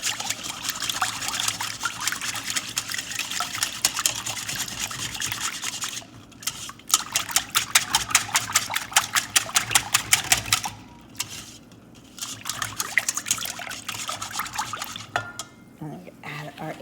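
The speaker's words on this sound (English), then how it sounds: "I'm just going to use our whisk to break it up and" A whisk beats milk and eggs together in a bowl for cheddar macaroni and cheese, giving fast, rhythmic clicking and sloshing strokes that run in bursts with short pauses.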